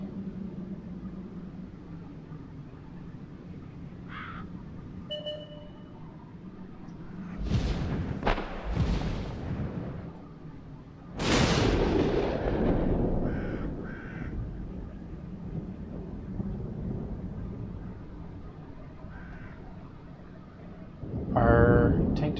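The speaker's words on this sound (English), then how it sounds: "I don't think that was our own artillery that made that" Artillery fire in World of Tanks, several booming game blasts and explosions of moderate loudness heard among engine noise while a player talks over the action.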